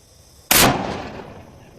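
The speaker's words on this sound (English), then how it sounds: "12 gauge against our Anvil." A 12 gauge shotgun fires a slug at an anvil outdoors, one loud sharp blast with a bright crack that decays into a long fading echo.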